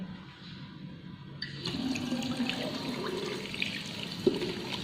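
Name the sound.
rinsing soapy hands under running tap water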